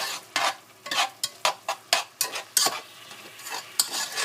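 A mushroom and onion sauce with gin cooks down in a pan, with rhythmic stirring scrapes and bursts of sizzling heard up close, no voices.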